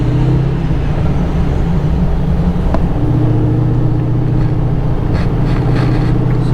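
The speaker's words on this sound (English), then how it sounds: "Robbie in the Challenger." Dodge Challenger idling at a Mopar drag racing event, a loud, steady low engine rumble that stays up close and constant, with faint crowd noise behind it.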